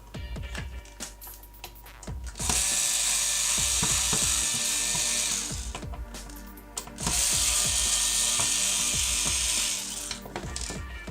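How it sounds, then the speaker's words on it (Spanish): Gold screws on the underside of a Sega Master System console being backed out with a power screwdriver: two sustained whirring, ratcheting bursts of a few seconds each, close and steady, with small clicks and handling noise between them. "vamos a quitar los tornillos de color dorado que tenemos en la parte de abajo"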